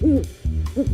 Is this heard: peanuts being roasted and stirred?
no